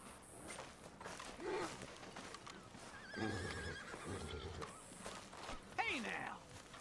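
Horses neigh and whinny inside the open-world western game Red Dead Redemption 2, with one sharp rising whinny near the end standing out over ambient game sound and a short stretch of hoof clatter in the middle.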